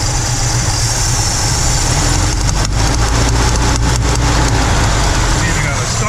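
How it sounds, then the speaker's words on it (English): A Chevrolet C10 shop truck engine idles roughly with air noise drawing through the carburetor, a loud, steady low rumble close up with an uneven, lumpy beat suggesting a stuck or burnt valve or a bad camshaft. "hear that coming through the carburetor"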